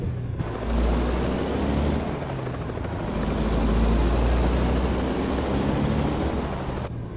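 A sheriff's helicopter hovers overhead in American Truck Simulator's Texas map, its rotor making a steady, throbbing drone that swells slightly and stays alone throughout.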